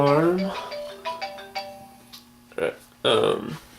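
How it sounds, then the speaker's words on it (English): A phone alarm rings in a game room with a surge protector nearby, a bright electronic chime whose tones step along and then return in short louder bursts, fairly close and clear, with no speech over it. "there's my phone alarm."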